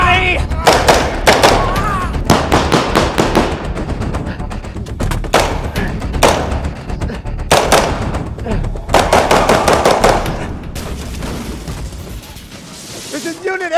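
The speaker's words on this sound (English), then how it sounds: "Shots fired. Shots fired." Staged gunfire during a skit at a live launch event: repeated sharp bursts of loud pops and bangs in rapid clusters, interspersed with shouting voices in a reverberant space.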